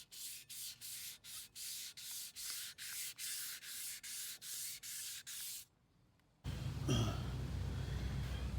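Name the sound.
wet sanding a wheel with 400 grit sandpaper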